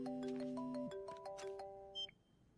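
A short electronic phone ringtone melody of clear tones plays, then cuts off, followed by a brief higher beep.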